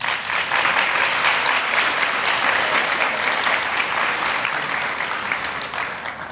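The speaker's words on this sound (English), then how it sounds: "giving them a round of applause" Sustained, dense applause from a large audience at a 2024 graduation ceremony, steady and loud throughout before easing slightly at the end.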